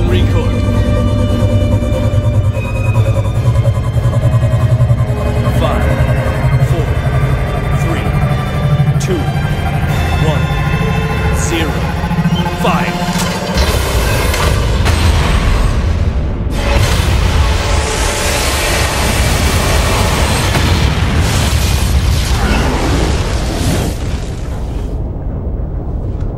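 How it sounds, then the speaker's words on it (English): A wave motion gun in a 2010 space battleship film charges with a rising hum and then fires into a huge, roaring explosion that swells and rumbles on for many seconds, loud and dominating throughout. "10 seconds to wave motion gun. Bridge crew, brace for flash and recoil."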